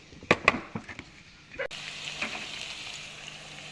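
Onion going into oil left from frying fish and bori, first a few sharp knocks and clatters, then a sudden steady sizzle that rises and holds close by, with faint voice-like murmurs underneath.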